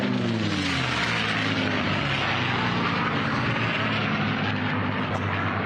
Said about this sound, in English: our P40 Warhawk in the brown camo, if you want to call it that, paint scheme as he makes his way to the north